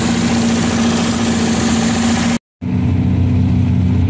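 An MGB engine with an SU HIF44 carburettor idles smoothly and steadily after its mixture screw was adjusted, a close, even rumble with one brief dropout.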